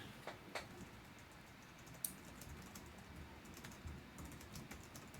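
Soft typing on a computer keyboard, faint scattered key clicks in an uneven patter over a low background hiss.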